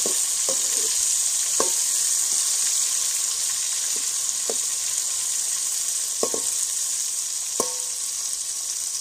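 Tomatoes fry in hot oil in a pan during rice cooking, a loud steady sizzle punctuated by occasional metallic scrapes and taps of a stirring spoon, with no voices.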